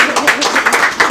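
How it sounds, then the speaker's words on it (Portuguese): Brief burst of audience applause for guests, a dense patter of clapping hands that swells in quick waves and stays at a steady moderate level throughout. "Uma salva de palmas nossos convidados."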